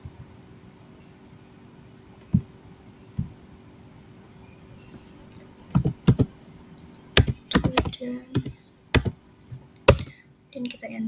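A password typed on a computer keyboard: after a quiet stretch with a couple of isolated taps, a quick burst of close, crisp key clicks follows, irregular in rhythm, ending in a firmer keypress.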